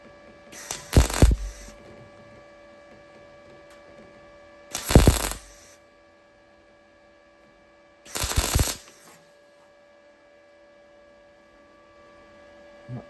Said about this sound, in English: You can hear things flexing and popping.